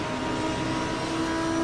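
A race car drones past during a Watkins Glen race in a racing video game, a steady engine hum with a rising pitched tone near the end, continuous and moderately loud.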